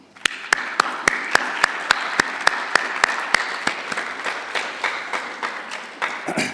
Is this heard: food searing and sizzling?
no